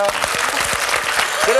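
A studio audience at a KBS television talk show breaks into loud, dense applause, with a voice talking over the clapping.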